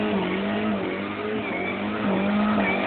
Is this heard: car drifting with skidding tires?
yes